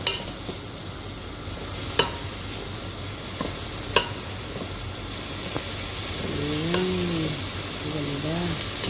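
Brown sugar is stirred into oil over medium heat, with a soft sizzle, a few sharp spoon clicks against the pan, and a faint squeaky scraping toward the end, all quiet and close with no talk.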